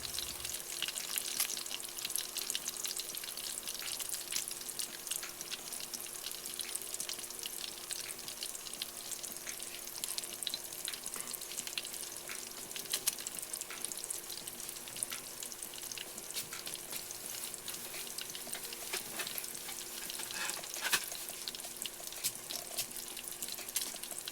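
Wine-battered fish frying in a pan gives a steady, faint, continuous crackling sizzle with occasional louder pops throughout.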